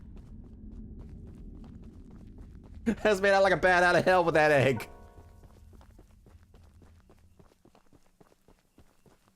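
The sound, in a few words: footsteps in video game Choo-Choo Charles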